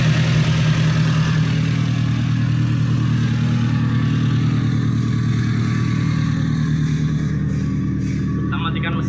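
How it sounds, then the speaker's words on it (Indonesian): A car engine idles with the air conditioning running during a service check, just before being switched off: a loud, steady low rumble that continues throughout, with a few light clicks near the end. "Kemudian kita akan matikan mesin."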